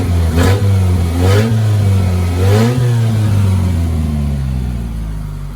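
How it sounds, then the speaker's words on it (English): A Mighty Maxx small engine runs after a fouled spark plug was found, revving up and down in several strong surges over a steady running tone, loud and close with no talk. "Listen to that motor."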